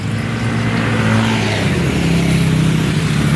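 Roadside street traffic beside a small shop, with a close, loud rush of passing vehicles and engines swelling and fading over a few seconds, without talk.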